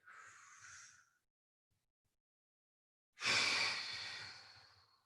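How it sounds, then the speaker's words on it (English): Forceful exhalation pushed out through clenched teeth during a fitness workout, a short hiss followed by silence and then a longer, louder breathy rush trailing off over a couple of seconds, close to the mic with no talking. "Breathe through your teeth."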